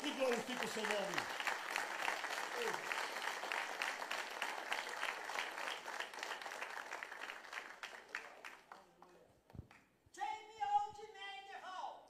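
A church congregation claps steadily for several seconds, the applause quiet and somewhat distant, before it thins out and a voice with musical tones takes over near the end.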